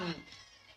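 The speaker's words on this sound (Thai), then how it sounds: "มันมีแมว" A cat gives a single brief, faint meow at close range that fades quickly.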